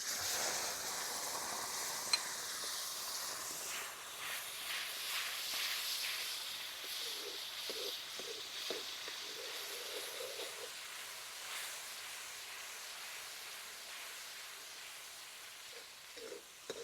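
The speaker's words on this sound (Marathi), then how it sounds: "टोमॅटोची पेस्ट पूर्ण तेल सुटेपर्यंत परतून घ्यायची" Tomato paste sautéing in a pan over a wood-fired village stove, a steady faint hiss of sizzling with occasional light stirring scrapes, close but quiet.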